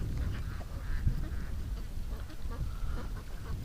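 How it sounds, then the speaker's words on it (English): Ducks kept near a home give soft, scattered quacks and chatter at a modest distance, mixed into a steady outdoor background with no talking. "But the ducks are chilling behind me actually."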